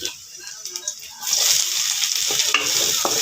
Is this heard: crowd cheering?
no